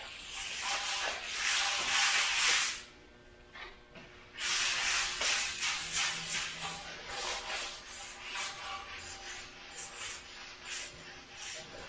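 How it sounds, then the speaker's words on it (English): Rubbing by hand to polish off a coat of black finish on a surface, producing close, hissy scrubbing strokes in uneven bursts with brief pauses between them. "I'll polish this off and I'll take one more coat after this."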